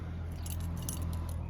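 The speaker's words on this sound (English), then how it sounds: "keys in the ignition." Keys jangle and click as they go into the ignition of a Honda Vision scooter, a brief close metallic rattle over a steady low hum.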